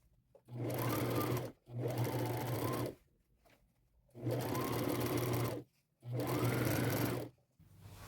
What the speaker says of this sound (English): run a 1/4 inch seam allowance down each side and double stitch that